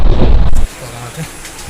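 A loud, deep rumble of thunder fills the first half second, then cuts off to quiet background hiss.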